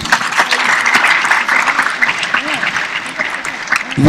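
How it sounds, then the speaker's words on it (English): Crowd applause fills the hall at a Model UN opening ceremony in Tanzania, loud continuous clapping with cheers and voices mixed through it. "Another applause, please."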